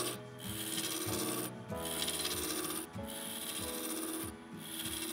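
A spindle roughing gouge rubs and scrapes against a spinning maple blank on a lathe, making a continuous raspy cutting noise with brief dips as the tool lifts. It is close and heard without speech.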